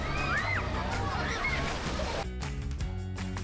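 Water sloshes and splashes in the wave pool of a water park, a loud churning wash with faint distant voices and shrieks mixed in.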